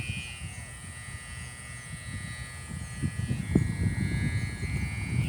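Thai buffalo kite flying high in the wind gives a steady, droning hum, held over a low, gusty wind rumble that grows stronger toward the end.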